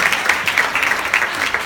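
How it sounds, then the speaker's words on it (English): Applause from a conference audience at the PBG Bahamas 4th Annual Conference, a brief, loud, steady burst of many hands clapping close by. "Can we give them a round of applause?"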